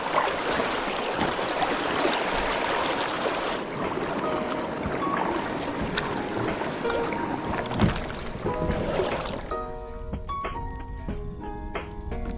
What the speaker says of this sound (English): There's a lot of water coming down this river.